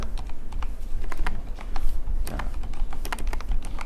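Rapid, uneven typing on a computer keyboard while entering code, with close, crisp key clicks in quick bursts and no voice.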